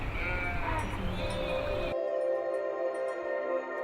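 A migrating flock of some 500 sheep and goats from the Kangra valley bleats in overlapping, drawn-out calls, several animals at once, close and steady with no talk.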